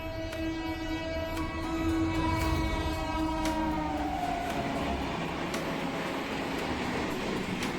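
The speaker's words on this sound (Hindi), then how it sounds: "न जाने ये कौन सी ट्रेन 130 किलोमीटर प्रति घंटा की रफ्तार से इस स्टेशन को स्किप कर रही थी।" A fast train passing through Vidisha railway station in Madhya Pradesh at about 130 km/h, its horn blaring at the start over a roaring rush of wheels and carriages that carries on loud and close.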